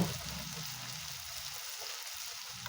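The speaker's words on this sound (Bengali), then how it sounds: "আমার রসুন বাটা, আদা বাটা, পেঁয়াজ বাটা একটু ভাজা ভাজা হয়ে গেছে।" Garlic, ginger and onion paste frying in a pan for a Bengali rui fish dish: a constant, gentle sizzle close by, fairly quiet, with a small bump at the start and no talk.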